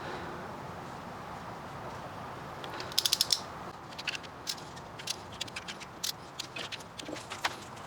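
Torque wrench ratchet tightening bolts on a Honda Civic, with a quick burst of close ratcheting clicks around three seconds in, then scattered sharper clicks over a quiet background, without speech.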